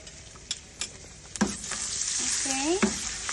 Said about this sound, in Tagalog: Ilagay na natin yung bawang.